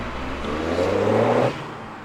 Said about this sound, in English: The standard exhaust, however, it's a little bit on the reserved side, shall we say?